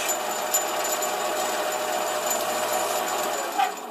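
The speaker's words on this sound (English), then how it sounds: "I want to make a light chamfering cut to remove that sharp edge" A mini lathe runs with a steady motor whine and hum while a light chamfering cut is taken on a chucked workpiece, close and continuous, with the hum dropping away near the end.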